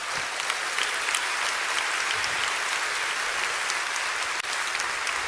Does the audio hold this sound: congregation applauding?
yes